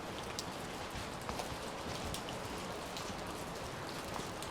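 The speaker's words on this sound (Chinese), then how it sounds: "这崖壁上一直在渗水下来， 就像是下雨天了一样。" Water seeps and drips steadily down a mossy mountain cliff face and sounds like constant light rain, a soft, even patter with occasional sharper drops.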